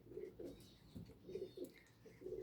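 Pigeons kept for sale coo softly in a low, repeated rhythm, several throaty coos rolling one after another at close range with no voices over them.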